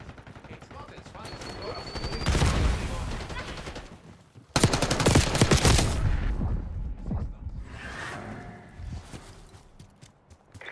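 Call of Duty: Black Ops 6 gunfire in two loud, dense bursts of rapid automatic shots, close and overlapping, with quieter shots and clatter afterward and a voice speaking between them.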